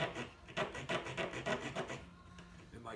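A knife shaves down the end of a wooden spoon in quick rasping strokes, a rhythmic run of close scraping pulls that slows and thins toward the end, with no voices.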